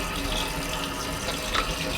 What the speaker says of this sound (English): You can see my dad is filling up with fresh water.